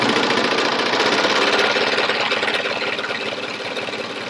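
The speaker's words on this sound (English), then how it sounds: "let's just show you just how smooth this machine will sew installing that cover stitch on our fabric." A Bernette b62 coverstitch machine sews a coverstitch into fabric at high speed, giving a close, steady, rapid mechanical rattle and hum with no pauses. The sound fades slightly toward the end.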